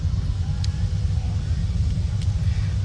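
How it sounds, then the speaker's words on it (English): Engines of passing cars rumble at an outdoor car show, a loud, steady low drone lasting the whole stretch with no break. "it's just so loud here today with all the cars rumbling by"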